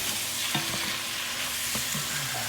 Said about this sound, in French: et on va bien mélanger le tout comme ça